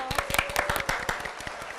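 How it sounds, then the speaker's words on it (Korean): A short burst of scattered clapping from a small group, uneven claps rising and thinning out over a couple of seconds. "박수 한번 보내드릴까요?"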